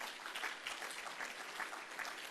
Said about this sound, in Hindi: एक बार जोरदार ताली बजाओ इसके लिए